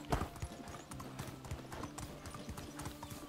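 Steady clip-clop of a horse's hooves while riding in the Medieval Dynasty video game, a quick regular trotting rhythm at moderate distance, fairly faint under a low ambient hum.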